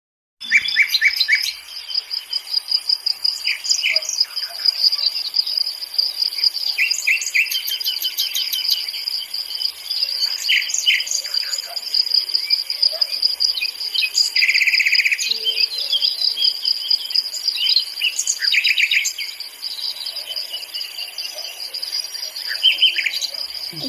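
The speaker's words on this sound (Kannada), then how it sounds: "ಇಲ್ಲಿ ನೋಡ್ರಿ, ನಮ್ಮ ತೋಟಕ್ಕೆ ಬಂದ ಪಕ್ಷಿಗಳು" Birds chirp and trill repeatedly in a garden over a steady background of insect buzzing, close and fairly loud, with no talking.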